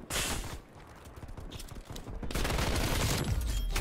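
Rapid automatic gunfire from an AK-47 assault rifle in Call of Duty: Cold War, dense bursts of shots that swell louder in the second half, with mechanical clicks between.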